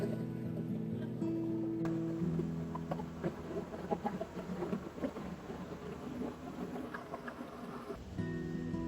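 Chickens cluck softly on and off while eating rice, a scattered flock heard faintly over a quiet outdoor background in Kuala Lumpur.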